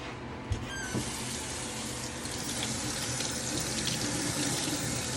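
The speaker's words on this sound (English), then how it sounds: "I like to keep these utensils rinsed off" Cooking utensils rinsed under a running kitchen faucet, a steady close gush of water into the sink with a few clinks near the start.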